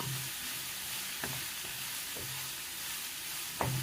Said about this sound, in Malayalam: ഇങ്ങനെ ഇളക്കി കൊടുക്കുക.